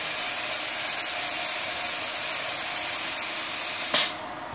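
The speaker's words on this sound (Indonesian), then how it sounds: "Potong klat besi." A CUT 65 plasma cutter slices through iron plate roughly 50 mm thick, giving a loud, steady hiss that runs unbroken until the arc cuts off abruptly near the end.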